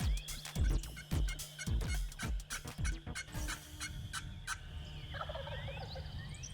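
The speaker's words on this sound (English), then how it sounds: "that first gobble of the season just gets your blood boiling" A wild turkey gobbles in the spring woods, several rapid rattling gobbles in quick succession, fairly close and loud, then fading into quieter birdsong.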